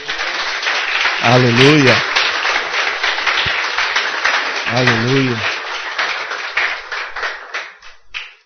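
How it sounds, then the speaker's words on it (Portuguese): Congregation applauding in church, a sustained, dense burst of many hands clapping that fills the room and tapers off near the end, while voices call out twice over the applause. "Você pode aplaudir ao Senhor, meu querido?"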